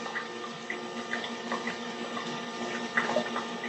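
A Nespresso Vertuo Plus coffee machine pumps water through its system during descaling, a steady mechanical hum and watery flow with soft gurgles and clicks, continuous and close, with no talking.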